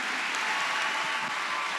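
Conference audience gives steady, continuous applause for students who presented that morning, a dense even wash of clapping with no speech over it.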